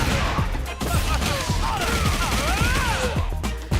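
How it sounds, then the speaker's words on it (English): Deejay's machine gun uppercut combo in the Street Fighter 6 fighting game, a dense, loud run of rapid punchy hit impacts and sweeping effects over steady game noise, with no talking. "you can do a machine gun uppercut and that all combos, and it looks like this"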